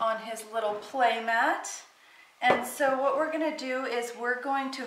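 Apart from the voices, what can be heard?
No everyday noise stands out behind the speech.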